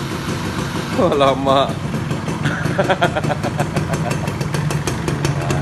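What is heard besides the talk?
Suzuki Best RR110 motorcycle engine starting by remote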